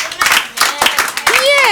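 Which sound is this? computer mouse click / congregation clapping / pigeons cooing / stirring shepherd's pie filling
congregation clapping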